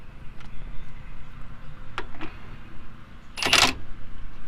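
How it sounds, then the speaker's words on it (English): A torque wrench clicking as it tightens a front shock bolt on a 1999–2004 Ford F250 pickup, heard as a few short sharp clicks at about two seconds, then a louder crisp snap near the end, close by with no talking. "He said as he used his torque wrench."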